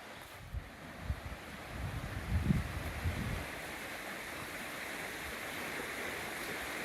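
A creek flowing beside a small roadside wayside, a steady broadband rush of water running the whole time, with some low wind buffeting on the microphone early on.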